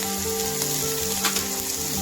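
Potato and pointed gourd curry frying in a pan as salt and chili powder are stirred in, a loud, steady close sizzle with faint scraping of the stirring spoon.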